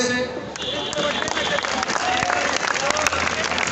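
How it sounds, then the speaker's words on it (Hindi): Packed hall at a Kota coaching campus results celebration claps loudly and continuously, a dense roar of hands and crowd noise throughout, with a few sharper claps standing out. "तालियों से"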